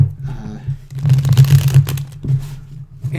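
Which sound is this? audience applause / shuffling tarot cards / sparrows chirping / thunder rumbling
shuffling tarot cards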